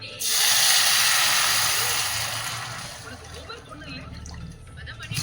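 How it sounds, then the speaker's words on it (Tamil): Water poured into sugar that is just starting to caramelize for bread halwa sets off a loud, sudden hiss and sizzle that slowly fades into quieter bubbling and spitting. "லைட்டாக கேரமலைஸ் ஆக ஆரம்பிக்கும் போதே தண்ணி ஊற்றிடுங்க."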